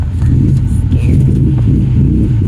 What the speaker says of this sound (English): Without a tune. I don't know what that is. Well, the engine's not tuned up.